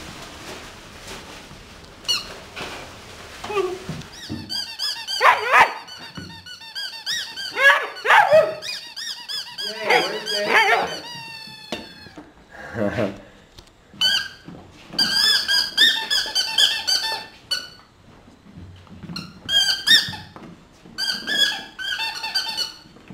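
An eight-week-old German Shepherd puppy chomps on a squeaky toy, drawing repeated sharp squeaks in irregular bursts with short pauses between, close and clear.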